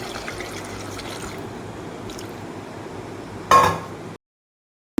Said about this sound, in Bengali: প্রেশারে আমি এটার সাথে জল দিয়ে দিব দিয়ে সিদ্ধ করে নেব